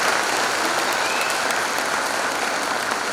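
Sustained audience applause for the teachers at a school patronage day celebration, a steady dense clapping from a large crowd that fills the whole moment without pause.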